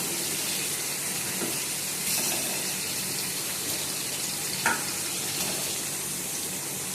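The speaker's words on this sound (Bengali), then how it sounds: "আমি এবার পুর ভরা পটলগুলো ছেড়ে দিচ্ছি মশলার মধ্যে।" Stuffed pointed gourds (potol) sizzling in oily spice masala, a steady, fairly quiet frying hiss with a few faint clicks and pops along the way.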